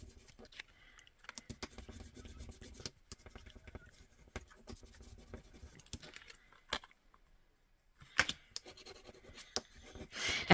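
Clear shamrock sticker being burnished onto a craft artist trading card, with soft intermittent scratchy rubbing and scraping strokes and a few sharper taps, close and fairly quiet.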